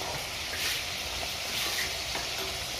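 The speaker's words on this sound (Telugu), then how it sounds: "ఐదు నిమిషాలు ఇట్లనే నూనెలో పెట్టాలి చికెన్." Chicken pieces sizzle in hot oil in a pan, a dense continuous frying hiss with faint crackles, close and steady throughout, no voices.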